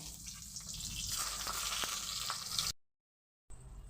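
Eggplant pieces frying in hot oil, a steady close hiss and sizzle with a few small crackles, cutting off abruptly near the end before a brief return, with no talking.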